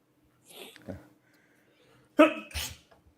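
A person sneezes sharply and close by in one loud burst, after a softer breathy intake and a faint sniff, with quiet between the sounds.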